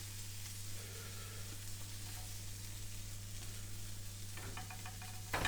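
Tomatoes frying in a pan give a steady, faint sizzle over a low electrical hum, ending with a brief louder clatter.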